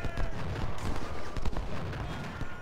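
Infantry units in the Civil War strategy game Ultimate General: Civil War fire on artillery, a short, dense crackle of musket volleys and thumps with a voice talking over it.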